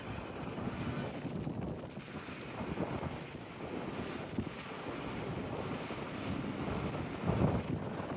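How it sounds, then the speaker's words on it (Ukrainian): Steady wind buffeting the microphone on a pier in Thailand with a continuous roar, gusting slightly louder near the end, no voices. "слухайте, як вітряно в нас просто"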